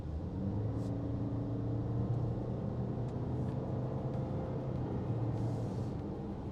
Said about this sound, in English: let's do a slight acceleration here